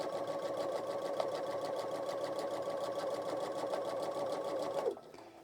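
A sewing machine stitches a composition notebook cover with fast, rhythmic mechanical ticking and a steady whirring hum, running evenly for several seconds before abruptly stopping near the end.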